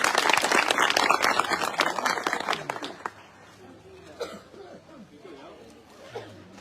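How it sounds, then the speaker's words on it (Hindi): An audience at a village blanket distribution event claps loudly for a few seconds, then the applause fades into scattered murmuring, coughs and quiet chatter from the crowd. "आप एक बार जोरदार तालियां बजाइए, उनका अभिनंदन करिए"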